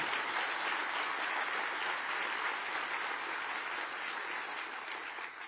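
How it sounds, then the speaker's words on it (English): A crowd claps steadily for party colleagues at the official launch of the Australian Labor Party election campaign, a dense, even wash of applause heard at a moderate distance that fades slightly toward the end. "give them a clap"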